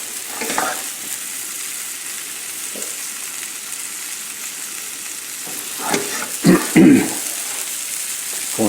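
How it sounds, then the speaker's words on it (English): Onions or shallots sizzle in a pan with sea scallops, a steady moderate frying hiss with a few louder stirring clatters near the end. "I'm going to put in the onions or shallots."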